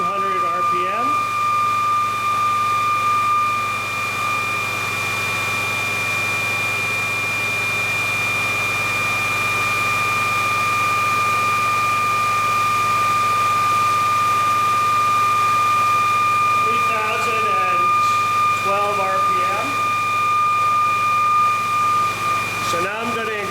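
Steady electric drive motor running at about 3,200 RPM under roughly 600 watts load, a constant whine with fixed tones over broadband whir, loud and close throughout, with faint voice-like murmurs near the end.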